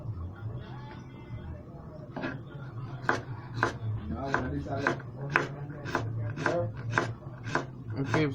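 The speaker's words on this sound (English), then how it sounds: "Okay, so I go and cut up some seasoning" A sharp knife chopping seasoning on a board: a run of about a dozen quick, crisp strikes, fairly steady in rhythm and close by, over a low background hum.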